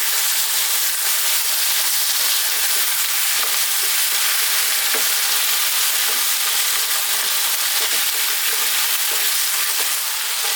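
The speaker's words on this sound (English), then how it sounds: "Simply about 3 to 4 minutes on this high heat. We're going to stir it around in there." Lamb pieces frying on high heat, an intense, unbroken hiss and sizzle filling the sound close up, with faint scrapes of stirring barely rising through it.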